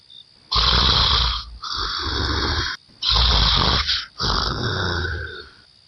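A woman sleeps with her mouth open and snores loudly, giving four long, rasping snores in a slow, regular rhythm with short quiet breaths between them.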